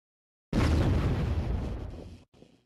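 A laser satellite strike hits in the strategy game Warzone 2100: after silence, a sudden loud blast erupts with a roaring boom that slowly decays, cuts off, then a short fainter rumble trails after.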